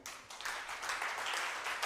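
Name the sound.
congregation applause in church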